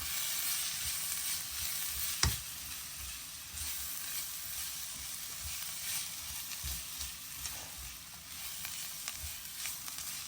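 Chicken and beetroot coated in masala sizzle and fry steadily in a pan over medium heat, with a few scraping stirs and one sharper knock partway through.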